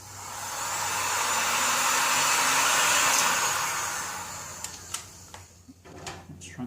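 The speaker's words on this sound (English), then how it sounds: "Grab the heat gun." A heat gun shrinks heat shrink tubing over wire joints on 12V pixel ball lights, a steady blowing whoosh that swells and fades over about four seconds, followed by small clicks and handling noises.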